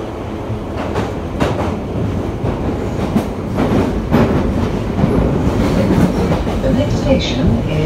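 A London Underground Piccadilly line tube train runs toward Heathrow, its steady rumble and rail clatter continuous and loud, swelling slightly in the second half with faint high squeals above.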